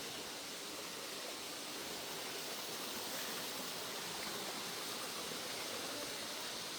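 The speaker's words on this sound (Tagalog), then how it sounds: "Ayun yung falls." A waterfall on a cool mountain hike roars as a steady, dense wash of falling water, continuous and fairly close, with no voices over it.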